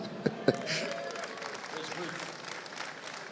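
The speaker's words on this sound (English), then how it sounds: "Hey, round of applause for Alundra Blaze." A crowd applauds on a wrestling-themed talk show, starting with a couple of sharp near claps and settling into a moderate, steady ripple of clapping, with some talk underneath.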